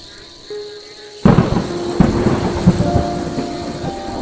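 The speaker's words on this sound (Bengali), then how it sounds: "রাত বাড়ার সাথে সাথে বৃষ্টির বেগটাও যেন বাড়লো দেখছি।" Heavy night rain with a sudden thunderclap in a Bengali ghost cartoon: a quiet stretch breaks into a loud crack, followed by continuous dense rainfall with rumbling, and no speech.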